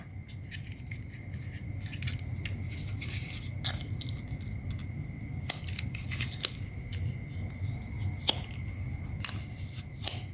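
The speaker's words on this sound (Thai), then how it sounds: "ให้คุณผู้ชมนำหลอดชาไข่มุกมาค่ะ ตัดที่ความยาว 9เซนครึ่งนะคะ" Scissors snip through plastic bubble tea drinking straws, cutting them to length for a straw orchid craft, with repeated short sharp clicks and crisp cuts close by over a steady low background hum, no talking.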